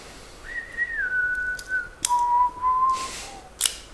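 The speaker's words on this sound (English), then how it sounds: "Tuneless whistle." A person whistles tunelessly, holding a few long, drifting pitches one after another, close and clear, with faint clicks and taps in between and no talking.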